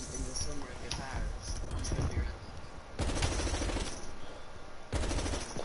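Rapid bursts of automatic gunfire come from a gun in the video game Call of Duty: Cold War. Loud volleys start and stop abruptly, with a voice talking over them.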